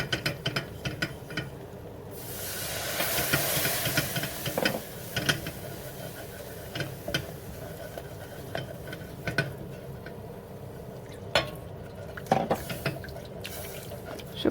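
Milk is poured little by little into a hot pan for a mock carbonara sauce, with a steady hiss and sizzle under repeated scraping and clicking of a utensil stirring against the pan, close and continuous.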